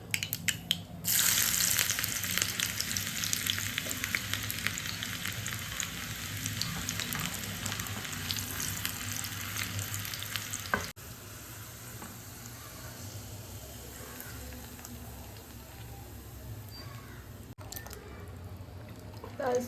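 Mustard seeds and onion fry in a pan as tempering for a curd-based saaru, giving a loud, close sizzle with crackling that later settles into a softer, steady frying hiss.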